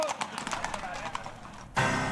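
More than 100 horses with riders clop along at a festival parade, a steady patter of hooves under a narrator's voice before a louder wash of sound at the end.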